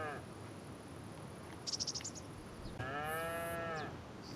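Cattle in Farming Simulator 25 give a drawn-out moo, clear and close, following a brief run of high chirping ticks over a steady insect-like background hum.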